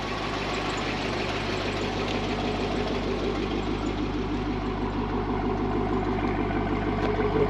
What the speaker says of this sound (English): What a great sound coming out of that Corsa exhaust.